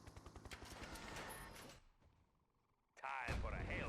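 Heavy artillery cannon fire from a Soviet unit in Red Alert 2 booms in a quick burst of rapid shots, fades briefly, then returns loudly alongside game voice lines.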